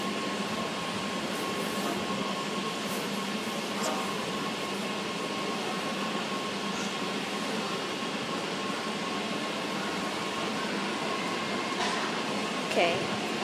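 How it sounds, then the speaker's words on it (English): A Sandringham service train arrives slowly at Melbourne Central's underground platform, heard as a steady, even rumble and hiss of the train and station ventilation with no distinct peaks. "We have a train slowly arriving onto Platform 2"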